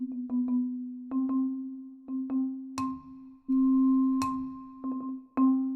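Grand Marimba sample library played in Ableton: sparse mallet notes with sharp attacks and ringing tones, a few repeated strikes with pauses between, clean and alone.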